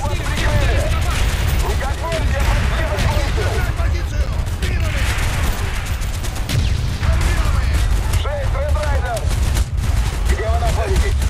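Dense, continuous gunfire and explosions from Call of Duty: Black Ops fill the whole stretch, loud and busy with overlapping shots and booms, with no clear gaps.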